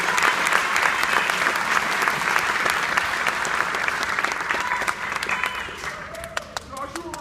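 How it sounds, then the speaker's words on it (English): Sustained applause from a school audience at an 8th grade spring band concert, dense and loud at first, then thinning toward the end as a few claps and voices linger. "So if you could give them a round of applause"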